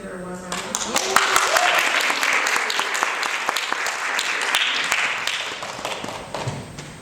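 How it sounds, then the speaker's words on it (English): An audience at a talk on body-focused repetitive behaviours gives warm applause, a dense wash of clapping that swells and holds, with a few sharper claps and a voice briefly heard near the start. "let's give her a warm round of applause"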